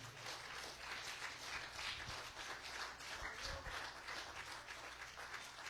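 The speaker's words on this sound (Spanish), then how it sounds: "¿Cuánto le puede dar un aplauso al que vive y reina?" A church congregation applauds during a Spanish-language service, a steady, dense wash of many hands clapping that holds at a fairly soft, even level throughout with no voices standing out.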